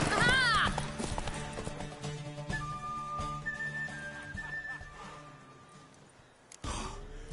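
A horse in The Witcher 3: Wild Hunt gallops with rapid clip-clop hoofbeats and a sharp whinny at the start, under game music with whistle-like tones, a brief gap near the end and then hooves resuming.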